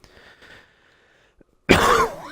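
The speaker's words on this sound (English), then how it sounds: "I'm still getting over this cough" One sudden, harsh adult cough bursts out close to the mic near the end after a quiet stretch with a faint murmur. It sounds rough and throaty, as if the person is recovering from a lingering cough.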